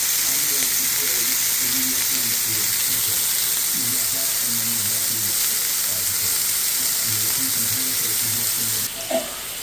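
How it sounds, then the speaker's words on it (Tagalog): Bacon frying in its own rendered fat with no added oil: a constant close crackle and sizzle, with occasional soft talk underneath and a brief clatter near the end. "Gusto ko maluto lang sa sariling mantika ng bacon."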